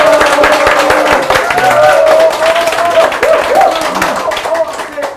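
An audience claps loudly to open a Korean book concert on science and technology, close and vigorous at first and then gradually thinning and tapering off, with a voice speaking over it.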